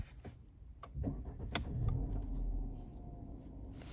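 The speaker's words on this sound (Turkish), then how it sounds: "Şimdi aracı bir çalıştıralım bakalım." A cold Peugeot 508 with a 1.6 petrol engine is push-button started with a foot on the brake: a few clicks, a brief crank, then the engine catches and settles into a quiet, smooth idle heard close inside the car.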